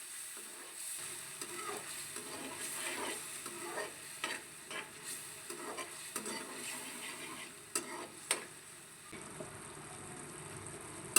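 Tomato puree cooks in a pan for a halwai-style petha kaddu sabzi. It sizzles softly under repeated stirring scrapes at an uneven rhythm, fairly faint and close.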